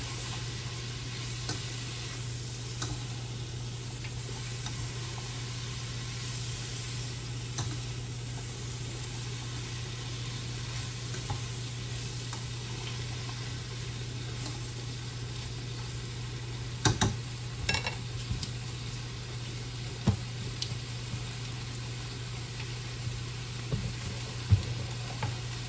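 Garden cabbage frying in bacon fat, a steady broad sizzle and crackle under a constant low hum, with occasional stirring scrapes and clicks near the end.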